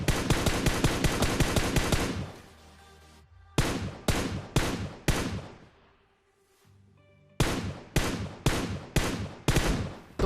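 Tap firing in the PUBG mobile shooter, rapid bursts of sharp loud shots in quick rhythmic groups separated by short pauses, close and alone without talk.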